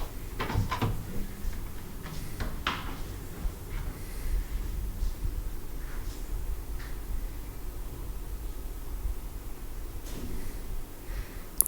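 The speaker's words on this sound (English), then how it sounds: "This is the door to the washroom." A hotel washroom door at Park Plaza Zirakpur opens inside a guest room, giving a few soft clicks and knocks in the first three seconds, then a steady, quiet room hum with no talking.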